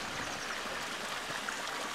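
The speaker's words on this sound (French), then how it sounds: "cette eau est prise dans le bassin du haut, est montée au chalet et elle redescend en cascade" Small waterfall spilling into a garden pond, its water pumped up from the upper basin before cascading back down; a steady, close splashing wash runs without pause throughout.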